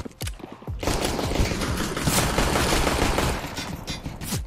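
Rapid bursts of automatic gunfire from a Counter-Strike: Global Offensive competitive match, loud and dense, rattling almost continuously for several seconds with brief gaps at the start and end.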